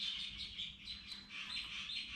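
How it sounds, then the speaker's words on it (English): A bird chirps in high, rapid, continuous tweets somewhere nearby in a workshop where a 1946 Chevrolet pickup with a 350 small-block is being worked on, moderately faint and with no talking. "Shut up, bird."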